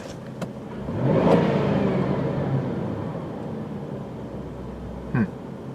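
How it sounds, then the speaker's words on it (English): A 1997 Mercury Grand Marquis engine with a slight skip rises in a revving burst, then settles into a steady running drone, with a couple of sharp clicks. "The car sounds great."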